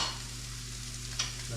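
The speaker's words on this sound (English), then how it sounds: "Gotta get that butter in that fish. Let that side cook up." Walleye fillet frying in butter in a pan gives a steady, close sizzle with a low hum underneath and one brief clink near the end.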